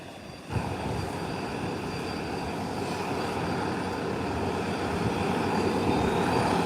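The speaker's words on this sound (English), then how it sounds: "Let's watch this departure. It's gonna be a short takeoff." An airplane on a short takeoff roll, its engine roar cutting in abruptly and then holding as a loud, steady, broadband rumble that builds slightly toward the end, with no voices.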